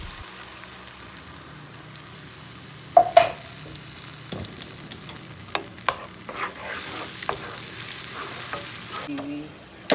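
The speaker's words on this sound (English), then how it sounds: "So now our onion and our oil is on the pan" Onion fries in oil in a pan for a tomato pizza sauce, with a steady close sizzle and crackle. A few sharp clanks and spoon knocks come through, followed by scattered stirring scrapes.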